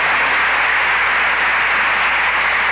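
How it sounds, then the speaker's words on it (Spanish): A studio audience on a Spanish-language Sunday television variety show applauds the three finalists, a loud, steady wash of massed clapping that holds evenly from start to finish. "Primero el aplauso del público para las tres, parejo."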